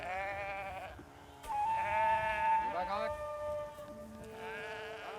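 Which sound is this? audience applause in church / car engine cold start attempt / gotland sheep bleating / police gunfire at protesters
gotland sheep bleating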